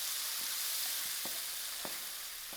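Salted pea filling for paneer and peas samosas cooking in a pan, a quiet steady sizzle with a few soft spoon taps and scrapes as it is mixed.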